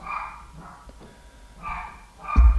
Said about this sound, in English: the dog's barking like crazy